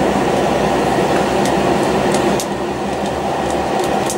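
A train rumbles past close by on the line between Lappeenranta and Kouvola, a loud steady roar of wheels and rail noise with faint high squeals, holding level and easing slightly toward the end.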